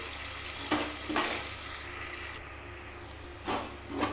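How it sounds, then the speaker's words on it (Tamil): Onions sautéing in a pan for chicken biryani, a steady faint sizzle with a few louder scraping stirs spaced through the clip, no voices. "வெங்காயம் வந்து நல்லா செவந்து வர அளவுக்கு வதங்கணும் கொஞ்ச நேரம் அப்படியே நல்லா வதங்கட்டும்"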